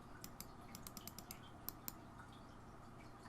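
A run of quick keystrokes on a computer keyboard during a Unity game-development session, about a dozen crisp clicks in the first two seconds then sparse taps, faint over a steady background hiss.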